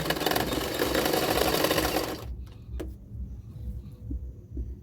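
A sewing machine runs steadily, stitching the shoulder seam of a double katori blouse with a loud, fast mechanical whir, then stops, leaving a few faint clicks and low hum.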